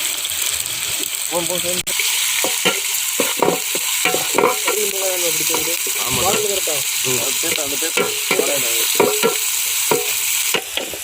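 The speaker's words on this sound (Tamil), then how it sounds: "வெங்காயம் நல்லா வதங்கணும். ரெட் கலர் ஆகிறது வரையும் வதங்கினா தான் டேஸ்ட் நல்லா இருக்கும்." Onions sautéing in a pan with salt for a tapioca and chicken gravy give a steady, close sizzle with stirring scrapes throughout, while a person talks over it.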